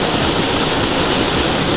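A waterfall heard close up as a loud, continuous broadband rush of falling water, steady and unbroken with no voices.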